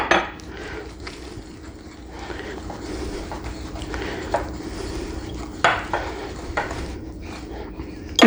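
Milk being whisked into whoopie pie batter by hand in a bowl, a continuous scraping and clinking of a metal whisk against the bowl with occasional sharper knocks, close and fairly steady.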